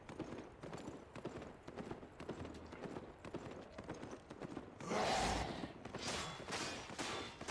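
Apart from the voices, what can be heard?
horse mount hooves in video game Albion Online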